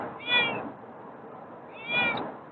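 Two clear meows from a cat, one near the start and another about a second and a half later, each rising and falling, over a quiet background.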